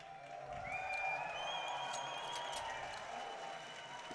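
Esports arena crowd at a Counter-Strike grand final between Fnatic and TSM cheers and whoops in a sustained, reverberant roar, fairly distant, with scattered shouts rising above it.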